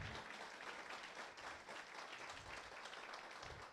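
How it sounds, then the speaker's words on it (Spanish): A church congregation applauding in praise on a morning service, a dense, continuous patter of many hands filling the room, fairly faint and distant, with no voices over it. "Denle un aplauso de alabanza al Señor en esta mañana"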